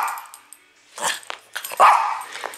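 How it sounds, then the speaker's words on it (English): A dog barks in a few sharp, close bursts, loud and uneven, with a growling edge and short gaps between them. "Evil dog."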